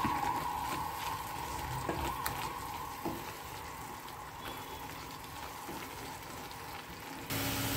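Vegetables and palak with masala frying in a pan for a Havyaka-style rice dish: a steady, soft sizzle and crackle continues throughout at low level, with occasional light stirring clicks.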